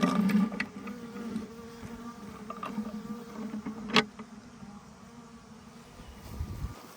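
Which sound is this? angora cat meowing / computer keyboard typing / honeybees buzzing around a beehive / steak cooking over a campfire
honeybees buzzing around a beehive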